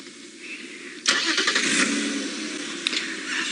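A safari game-drive vehicle's engine kicks in and revs up as it pulls forward, a steady mid-pitched rumble that jumps suddenly in loudness, then holds close and continuous with a few small bumps.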